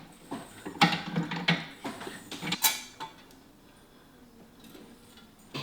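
Scissor-style jack being pumped to lift a low Alfa Romeo 4C sports car, a run of creaking, clicking metallic strokes close by for about three seconds, then fading to quiet.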